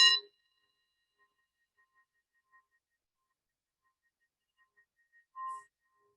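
A single meditation bell strike rings out, followed by a long, faint decaying tone and near silence, then a soft second chime near the end.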